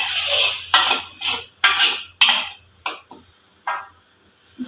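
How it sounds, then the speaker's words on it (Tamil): A spoon stirs coarsely ground coconut into a dish in a pan, with loud, close scraping strokes and clanks in an irregular rhythm over a faint sizzle. "இப்போ இதை நல்லா கிண்டிக்கலாம்."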